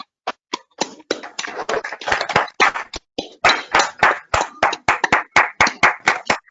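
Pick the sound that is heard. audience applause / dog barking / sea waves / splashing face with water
audience applause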